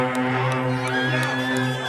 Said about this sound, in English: honk those horns